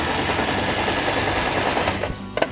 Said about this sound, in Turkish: Düz dikişle diktik.